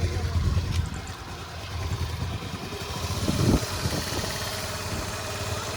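A Honda Activa scooter idles near its silencer, a low steady engine drone with a brief swell of exhaust noise midway, heard close up without speech.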